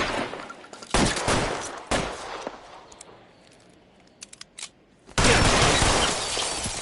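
Covering gunfire in the L.A. Noire video game: sharp volleys of shots in bursts, then a quieter gap with a few isolated cracks before a loud renewed burst of fire.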